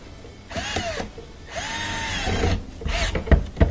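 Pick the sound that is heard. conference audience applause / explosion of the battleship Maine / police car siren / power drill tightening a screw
power drill tightening a screw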